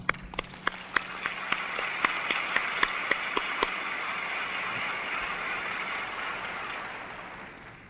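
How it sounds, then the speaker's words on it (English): Steady applause from an audience swells and lingers for several seconds, with a series of sharp regular taps at the start before it fades. "I think we should give you a hand clap."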